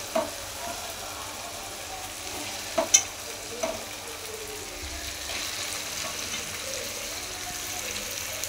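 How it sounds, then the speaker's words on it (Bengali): Meat added to spices already fried in a pan sizzles steadily, with a few sharp scrapes of a spoon stirring it early on, close and moderately loud with no talk. "মশলা ভাজা হয়ে গেছে, এবার দিয়ে দেবো মাংস।"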